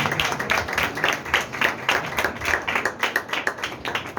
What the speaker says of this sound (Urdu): تو کیا آپ تالی بجا سکتے ہیں خدا کے کلام کے لیے؟